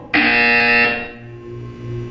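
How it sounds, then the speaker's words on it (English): A single loud buzzer in the video game Portal 2 sounds for close to a second with a harsh, electronic tone, then fades into a quiet hum. "When you hear the buzzer, look up at the ceiling."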